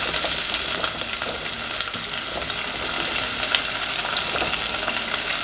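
Onion frying in hot oil and being stirred in a pan for a potato peas kurma, giving a steady, loud, close sizzle with scraping stir noises throughout.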